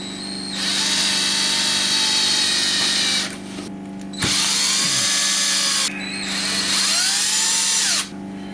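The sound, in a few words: power tool tightening bolts on a Yamaha Blaster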